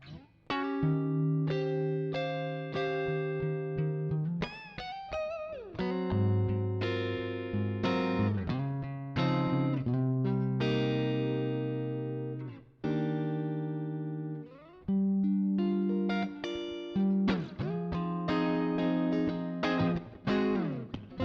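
Electric guitar through a Tech 21 Fly Rig Richie Kotzen RK5 V2 pedal, playing sustained chords and melodic lines, drenched in spacious reverb with long ringing tails, fairly loud and continuous with brief pauses.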